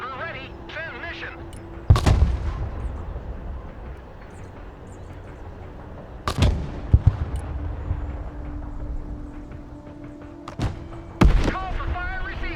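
Mortar fire in the video game Broken Arrow booms in three heavy, widely spaced blasts over a constant rumbling battlefield bed, with radio-style voices talking in the background.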